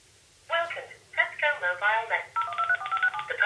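Phone dialing tones play through a Parrot MiniKit Smart car speakerphone, a quick run of distinct, clear beeps after a short silence, followed by a steadier tone pattern.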